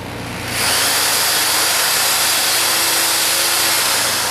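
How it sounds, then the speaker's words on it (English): An electric drill spins up after a brief moment and runs steadily at a loud, high-pitched whine, close by and uninterrupted. "Let's drill it out just a little bit."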